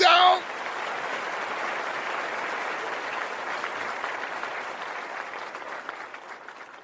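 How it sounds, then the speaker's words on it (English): A burst of applause, dense and even clapping like a recorded crowd effect, holding steady before easing off toward the end, with a short voice at the very start. "I definitely had to hit you with the applause"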